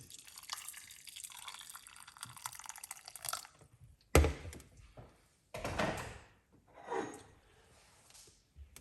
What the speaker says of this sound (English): pour some hot water upon it